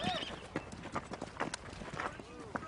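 A ridden horse's hooves clip-clop in a steady walking rhythm, close and clear, while people talk over them.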